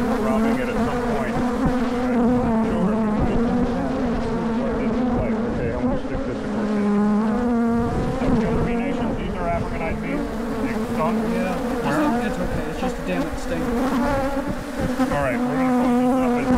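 Honey bees buzz around an open hive in a dense, steady drone that stays close and loud throughout, with some faint voices in the background.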